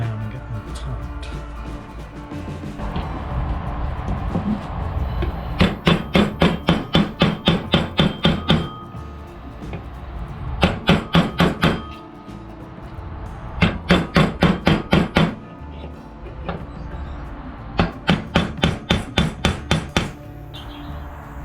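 Rivets on a Vespa P200E scooter are hammered flat in four rapid bursts of about a dozen sharp metallic blows each, close and loud, separated by brief quieter pauses.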